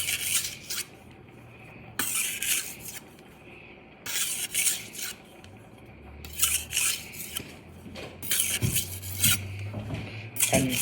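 Kitchen knife drawn across a sharpening stone in repeated rasping strokes, about five separate passes of scraping grit with short pauses between, close and clear with no talking.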